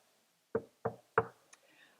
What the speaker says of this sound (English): to hear the knock on the door